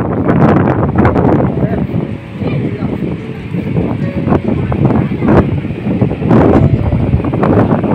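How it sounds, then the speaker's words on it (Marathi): Strong wind blows at a sandy Konkan beach at Diveagar, roaring and buffeting into the microphone in gusty bursts, with a person talking underneath throughout. "जोरदार हवेची पण सुरुवात झालेली आहे"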